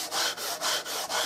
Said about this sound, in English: this is a 100 grit sand block.